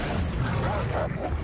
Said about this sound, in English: Wolves! Prepare for a fight.